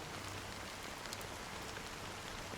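Steady rain falling onto a surface, a soft, even hiss of countless drops that holds constant throughout at low volume, with no voices.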